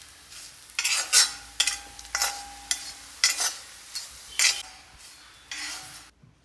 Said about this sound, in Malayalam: ഇത്രയാണ് വറുത്തെടുക്കുന്നത്